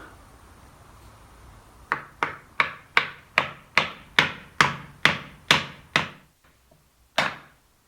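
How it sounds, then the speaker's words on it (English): Wood wedge and metal wedge being pounded into the head of a handmade double bit axe handle: about eleven evenly spaced, ringing hammer blows close by, then a short pause and one final strike. "insert the wood wedge, pound that in, followed by the metal wedge"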